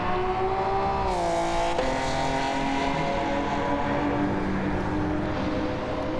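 1973 Nissan GTR racing cars in a racing video game, engines droning loud and constant with pitch shifting through gear changes, as several cars run close together along the track.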